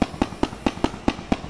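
Fireworks going off in the Roblox game Build a Boat for Treasure, a rapid train of about seven sharp crackling bursts at an even pace, each a loud pop with a brief fizzing tail, with no voices.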